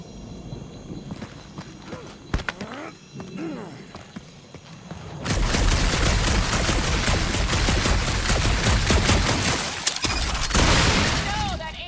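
Rapid bursts of gunfire in Marvel's Guardians of the Galaxy build from sparse shots into a dense, loud barrage of blasts and impacts, with voices talking over parts of it.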